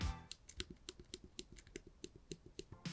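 A smartphone gimbal's joystick button is pressed repeatedly, giving a rapid, regular series of crisp, close clicks like a computer mouse, with no talking.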